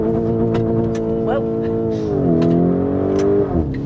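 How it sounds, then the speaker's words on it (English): A Lamborghini Urus S held in first gear in manual mode climbs to the rev limiter, a loud close engine roar holding high revs with a pitch dip and recovery, talk faintly underneath. "Here, I will put it in first, and I'm gonna reach the rev limiter."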